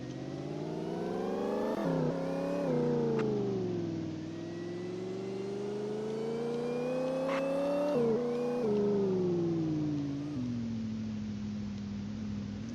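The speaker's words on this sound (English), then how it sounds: "You could definitely hear the supercharger." Supercharged car engine revving up and down repeatedly, a loud close-up rise and fall of pitch with a clear supercharger whine riding over the engine note.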